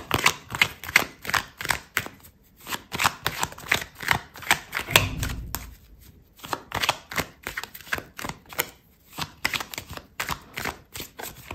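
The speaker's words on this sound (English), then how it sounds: "I'm going to pull out another card for you" Tarot cards shuffled and riffled by hand at close range for a reading, producing a quick rapid stream of crisp card clicks and flutters with a couple of brief pauses, no talking over it.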